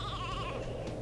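A sheep bleats in the video game Space Station Silicon Valley: a single wavering, nasal bleat lasting about a second over a steady low game hum, with no talking.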